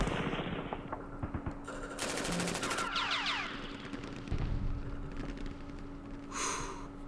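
Infantry rifle fire from the Vietnam war game Campaign Series Vietnam crackles in rapid bursts and single shots, mixed with a fast machine-gun rattle at mid distance.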